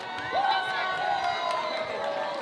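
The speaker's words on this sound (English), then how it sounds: "and their cheering section" A supporters' cheering section whoops and cheers during team introductions at a 2019 FTC Rover Ruckus robotics championship in Washington, with a whistle-like rising tone and a loudspeaker announcer talking over the crowd.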